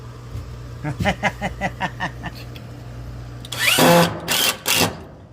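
A power drill driving screws into a Walmart bar, first a run of short rhythmic pulses over a low hum, then a louder sustained whir and two final bursts, close up with no talk.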